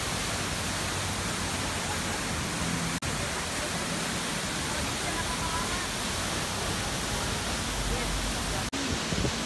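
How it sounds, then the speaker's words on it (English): Loud, steady roar of a waterfall near Padang, Indonesia, a dense broadband rush of falling water filling the whole stretch without a break. "I'm at the waterfall right now"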